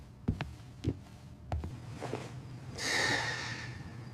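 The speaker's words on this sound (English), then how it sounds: "I don't mean to snore" A sleeper snoring with a few sharp, close snorts, then a longer, louder breathy rasp near the end; no talking.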